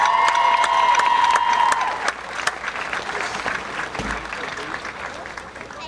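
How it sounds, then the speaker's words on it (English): A crowd at a high school homecoming football game applauding the homecoming court, with sustained clapping and some cheering that gradually thins out over several seconds. "Let's give them one more nice round of applause."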